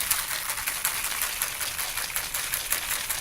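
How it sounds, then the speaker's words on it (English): Ice rattles steadily inside a cocktail shaker during a vigorous shake, producing a dense, continuous crunchy clatter with rhythmic pulses from the back-and-forth motion, close and alone. "Give it a good shake."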